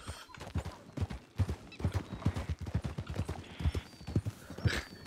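Horse hooves clip-clop in the Red Dead game (RedM), a quick steady rhythm of close, sharp hoofbeats that carries on throughout at a moderate level.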